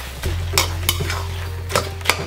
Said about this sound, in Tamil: இப்போ இந்த மசாலுக்கு தேவையான உப்பு சேர்த்து இதை நல்லா ஒரு பரட்டி கொடுத்துருங்க.